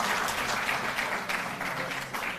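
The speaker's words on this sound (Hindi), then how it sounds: "जोरदार ताली बजती रहें।" An audience applauds steadily at an award ceremony honouring national athletes and their coach, a thick, continuous mass of clapping heard from within the crowd, without speech.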